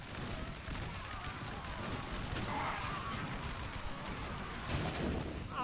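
Muskets fire in volleys during a Napoleon Total War battle, a faint, distant crackle of gunfire over a steady rumble of battle noise.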